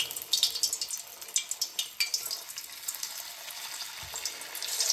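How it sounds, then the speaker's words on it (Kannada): Sweet potato pieces fry in hot oil, a steady crackling sizzle with scattered sharp pops, close and fairly loud with no talking. "ನಾನಿವಾಗ ಸ್ವೀಟ್ ಪಟೋಟೊನ ಎಣ್ಣೆ ಒಳಗಡೆ ಹಾಕ್ತಾಯಿದ್ದೀನಿ"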